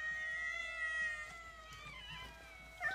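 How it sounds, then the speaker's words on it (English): Many cats meow at close range, several overlapping high, drawn-out calls rising and falling, with a louder meow right at the end and no talk. "Why are there so many cats here?"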